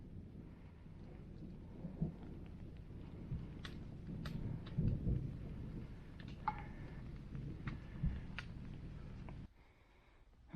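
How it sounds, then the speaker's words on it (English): Rain patters steadily outdoors on a mountain trail near Mt Mitchell in Pisgah National Forest, North Carolina, while low thunder rumbles in the distance, with a few sharper drips and knocks near the end. "The rain and thunder escorted us the entire way"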